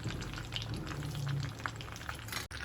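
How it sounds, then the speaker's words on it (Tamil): Mustard and fenugreek seeds sizzling in hot oil in a pan, a soft continuous crackle with scattered tiny pops, fairly quiet and with no talking. "எண்ணெய் ஊற்றியிருக்கேன். இதில் வந்து கொஞ்சம் கடுகு போட்டுக்கலாம், கொஞ்சம் வெந்தயம் போட்டுக்கலாம்."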